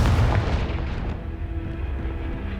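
A Confringo fire spell bursts in Hogwarts Legacy, a heavy booming blast that hits hard at once and then rumbles and decays over a couple of seconds, with no voices.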